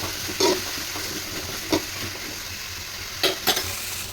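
Chopped tomatoes and onion sautéed in a pan with a soft constant sizzle, punctuated by a few distinct spatula scrapes and clinks as they are stirred.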